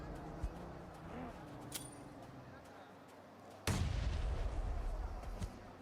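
Grenade explosions in the PUBG Mobile shooter during an esports match, a faint thud followed by a sudden loud boom that rumbles on, under quiet commentary.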